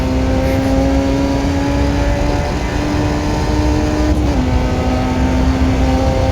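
A steady, loud engine drone comes from an F1 junior race car in a racing video game, holding a sustained tone with only slight pitch shifts and no talking.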